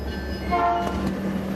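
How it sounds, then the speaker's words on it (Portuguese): A train approaches an old station now used as a yard for freight locomotives, sounding sustained horn tones over a steady low rail rumble, fairly loud and without voices. "O trem se aproxima"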